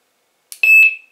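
A single short electronic beep from a Fox carp fishing bite alarm, a clear high tone sounding once in otherwise silent surroundings.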